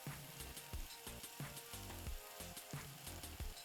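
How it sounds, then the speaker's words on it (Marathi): Turmeric and chili powder go into a sizzling pan of oil while making an eggplant and potato curry. The frying is a steady, close crackle with rhythmic stirring scrapes throughout. "आता याच्यामध्ये मी हळद आणि तिखट घालते."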